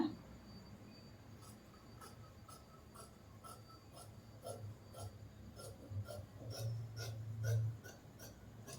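Scissors cutting through cloth for a long gown at a tailoring table, a soft steady rasping snip repeated in a quiet close room, no voices.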